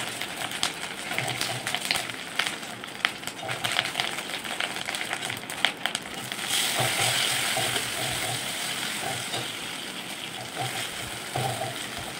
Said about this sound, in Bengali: আদাটা দিয়ে দিচ্ছি। আদাটা একটু তেল ছাড়া হলে কাঁচা লঙ্কা টমেটোটা দিয়ে দেব।